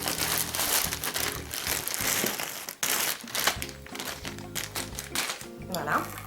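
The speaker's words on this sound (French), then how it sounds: "Donc d'abord je vais déballer." IKEA bathrobe being unwrapped from its plastic packaging, continuous close crinkling and crumpling with rustling bursts, while someone talks throughout.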